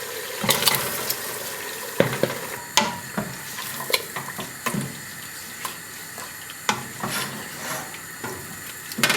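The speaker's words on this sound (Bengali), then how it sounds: "ম্যারিনেট চিকেনগুলি যে ছিল সেটা আমি একে একে ছেড়ে দিচ্ছি।" Marinated chicken pieces dropped one by one into hot oil for Bangladeshi shahi chicken biryani, a steady sizzle with repeated clinks and stirring scrapes at irregular intervals.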